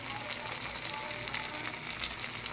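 Turmeric and red chilli powders hit hot oil in a pan with ginger-garlic paste for Bengali egg curry, giving a steady close sizzle and crackle that runs the whole time with no talk over it.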